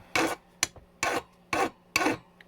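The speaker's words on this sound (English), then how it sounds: "But this is like a body file. This is a heavy duty file, right?" Heavy-duty body file rasping along a Yamaha Roadstar Silverado XV1600 exhaust muffler support, four long, close, loud strokes with a short scrape between the first two, no voices.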